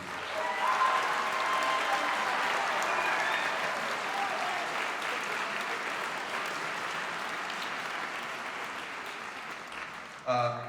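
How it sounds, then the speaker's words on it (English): Sustained audience applause fills a hall at a school district honor bands concert in Beaverton, steady and dense for about ten seconds before tapering, with a brief louder burst near the end. "can you stand up and give them a round of applause too?"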